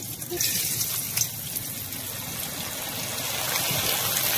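Rice dropped a little at a time through a strainer into hot white oil in a wok, a continuous loud hissing, bubbling sizzle that holds steady and swells slightly toward the end.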